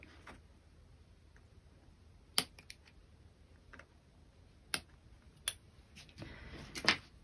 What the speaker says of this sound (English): Snip those with a small pair of scissors.